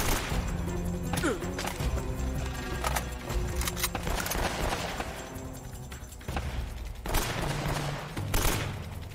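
Dense gunfire from many weapons fills a firefight in the video game Uncharted: Drake's Fortune, with rapid, overlapping shots and sharp cracks rattling on steadily for several seconds at close range.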